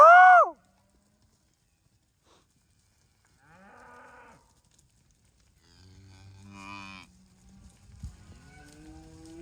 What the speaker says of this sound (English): Look at that heifer right there.